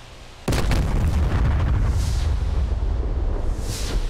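A missile explodes in the DCS A-10A flight simulator game with a sudden loud boom, followed by a sustained roaring rumble that lasts several seconds.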